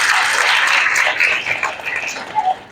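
Assembly audience at a children's Naunehal Assembly event in Rawalpindi/Islamabad giving a sustained round of applause, dense and steady clapping that gradually thins toward the end, with no talking over it.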